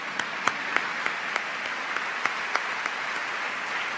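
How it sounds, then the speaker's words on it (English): Steady audience applause at the 2014 Goldman Environmental Prize ceremony fills the whole stretch, a dense wash of many hands clapping with a few sharper claps standing out. "that is worth clapping for"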